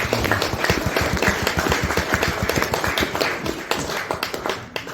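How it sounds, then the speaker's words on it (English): Audience applause at an Aviators Circle UK talk: a burst of close, crisp individual hand claps in quick uneven rhythm, loud and fairly sparse, tapering off near the end. "Another round of applause, please."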